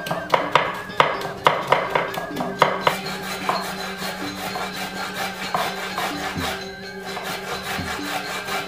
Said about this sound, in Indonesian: Nah, sekarang bawang putihnya dicincang guys.